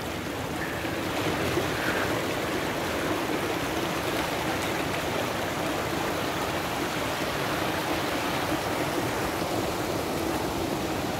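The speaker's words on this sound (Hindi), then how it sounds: "ये देखो वाटरफॉल का पानी है," Waterfall water rushing fast near Manali, a dense continuous roar of spray and churning flow that stays steady and close from start to finish, with no voices.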